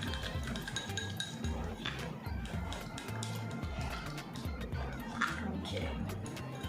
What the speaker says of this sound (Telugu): ఇలా మొత్తం కూడా యాక్టివేటర్ అండ్ క్రీమ్ మొత్తం కూడా మిక్స్ అయిపోవాలి మనకి